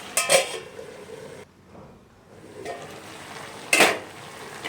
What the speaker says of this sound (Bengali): এরপর এটাকে ঢাকনা দিয়ে ঢেকে রান্না করব।